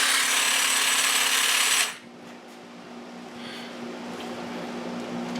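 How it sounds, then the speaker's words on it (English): An 18 volt Black and Decker cordless hedge trimmer buzzes loudly and steadily for about two seconds, then cuts off, leaving a quiet room hum and a few faint clicks. "My old 18 volt, and look, hedge trimmer still works."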